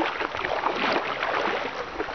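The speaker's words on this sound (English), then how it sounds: "I'm sea kayaking." A steady wash of water rushes and splashes against a sea kayak as it is paddled along, close and continuous, with no voices.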